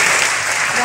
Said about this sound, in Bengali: তো ওনার জন্য একটা জোরে হাততালি চাই।